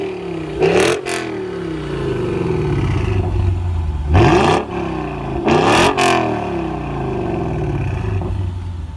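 A Lexus V8 with aftermarket exhaust, compared between an LC 500 with Tom's Racing and an RC F with Apex-i, idles with a steady rumble and blips up in three sharp revs.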